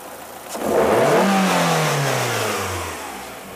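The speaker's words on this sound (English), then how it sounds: "I'm going to do basically what we call a wide open snap throttle test" A car engine is snapped to wide open throttle during a MAP sensor test, surging into a loud rev, then winding down steadily as the engine speed decays and is switched off, leaving near silence.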